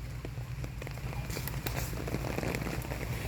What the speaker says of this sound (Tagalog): So, umuulan po.